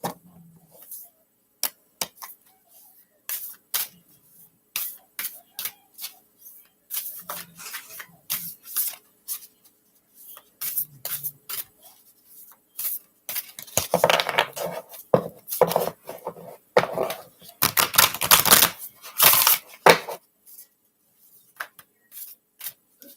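Tarot cards are shuffled during a paranormal card reading, with sparse crisp clicks and riffles at first that build into denser, louder bursts of shuffling near the middle before thinning out again.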